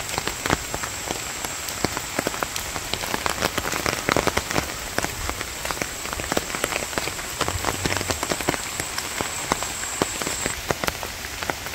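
Steady rain falls on surfaces in a village, a dense continuous patter of drops with frequent sharper splashes, close and fairly loud throughout with no voices.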